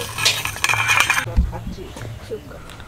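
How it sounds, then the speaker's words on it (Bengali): A metal lid clanks onto a pot of masoor lentil dal on a home kitchen stove, a few sharp clinks of metal on metal that settle into quieter low rattles. "ভাজা ঢাকা আছে, ডালও ঢেকে দিলাম।"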